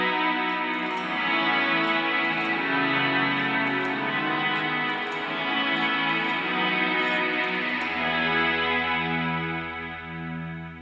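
Guitar run through a Strymon Cloudburst reverb pedal at full wet mix, a dense shimmering wash of sustained tones swelling and fading with no dry attack, plus faint bright ticks, lasting over ten seconds.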